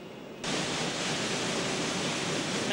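Weaving looms in a 1990 textile mill in Aalten suddenly start up into a dense, loud, steady mechanical roar that fills the hall and holds unbroken, with no voices.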